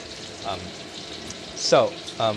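Lion's Head pork meatballs searing in a hot wok, a steady broadband sizzle with louder bursts of spattering and sharp hissing flare-ups near the end, close and fairly loud, with a voice speaking over it.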